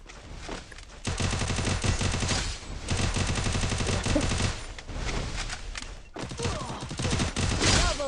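Dense bursts of automatic gunfire from a Free Fire battle royale match, loud and continuous in long volleys with brief pauses between them.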